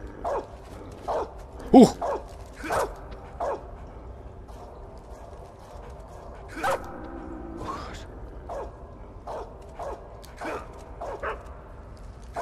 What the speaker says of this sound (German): Mir gefällt das nicht, dass hier unten Hunde sind.